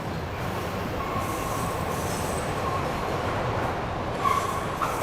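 Subway train at Sumaré station in Brazil, rumbling loud and steady on the rails, with faint wheel squeal rising now and then, and no voices.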